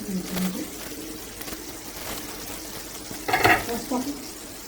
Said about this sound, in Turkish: Şöyle bir karıştırıyorum ki yanmasın.